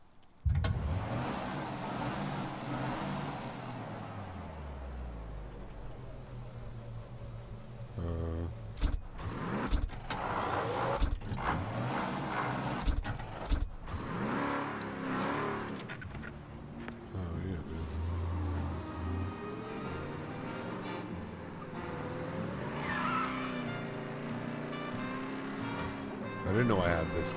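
A car engine in the video game Mafia: Definitive Edition hums and shifts in pitch as it drives, with electronic whooshes and people talking over it throughout.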